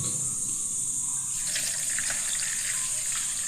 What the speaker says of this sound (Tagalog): Itong chlorine, lagyan natin ng tubig.